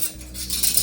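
Metal forks and other cutlery clink and rattle together as they are handled and sorted, a close, brisk jingle of utensils against dishes with no talking.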